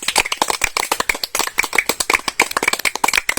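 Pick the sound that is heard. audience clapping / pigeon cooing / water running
audience clapping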